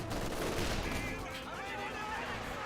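Rifle fire in Company of Heroes 2, a dense burst of gunshots and battle noise up front easing into a steadier clatter, with a commentator talking over it.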